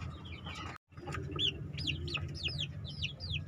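Young chickens raised in a farm pen on wood-shaving litter chirp and cluck repeatedly in quick rising calls, with a low steady background hum underneath.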